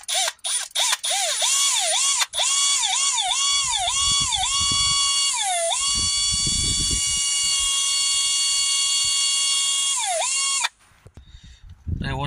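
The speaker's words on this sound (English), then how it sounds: "You want to get your tool there and start drilling the hole." A drill whines steadily while boring out a broken ABS wheel speed sensor on a 2016 Ford Ranger. The pitch dips and rises as the bit bites and frees, then the motor stops abruptly near the end.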